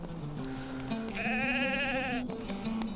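A sheep bleats in the fantasy video game LOTRO, one long wavering bleat rising over a low game-world background, clear and close, with a shorter lower call just before it.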